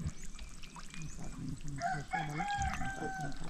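A rooster crows once among farm poultry, its harsh, rising call moderately loud over a faint background of other fowl and outdoor noise.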